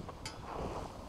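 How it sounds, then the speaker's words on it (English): Steady broadband wind rush buffets the microphone on a Suzuki Intruder 1400 motorcycle ridden without a windshield, a continuous roar filling the short clip with no speech. "Obviously I'm catching lots of wind in the face because I have no windshield"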